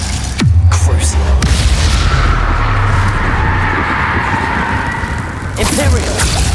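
Crucio curse cast in the video game Hogwarts Legacy, a loud booming magical blast with a low rumble that sustains for several seconds before a second burst near the end.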